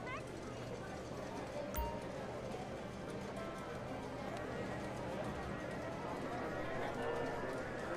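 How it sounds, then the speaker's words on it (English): Horse hooves clip-clop at a run during a horse race in the video game Grand Theft Auto V, a quiet, steady patter heard faintly over several seconds with no talk. "Are we hearing the horses next?"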